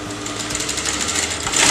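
A sewing machine stitches the outer edge of a neckline on canvas fabric, a steady close whirring hum running throughout with a slight rise in loudness at the end.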